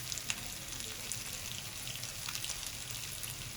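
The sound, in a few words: bread pakora sandwiches frying in oil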